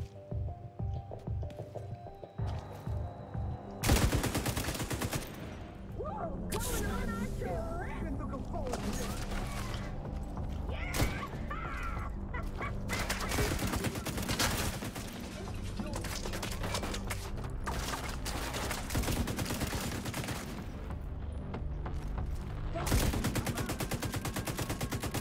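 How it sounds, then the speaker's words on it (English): Sustained suppressive gunfire from The Division 2, loud and dense, with rapid automatic bursts running almost continuously after a brief quieter lead-in with scattered shots. "Suppressive fire."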